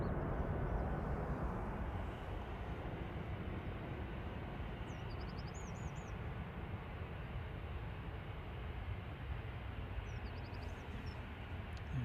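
An airliner, registration A7BHL, departs Manchester Airport for Doha, its broad steady jet roar filling the air at constant loudness from a distance, with faint bird chirps above and no talk.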